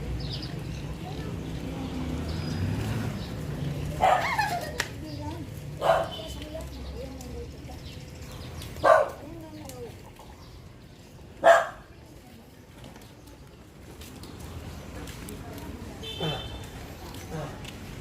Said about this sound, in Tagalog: Kawawa yung aso.